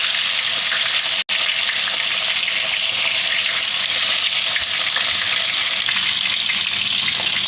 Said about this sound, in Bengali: আমি চিকেনের লেগগুলোকে একটা করে ভেজে নেব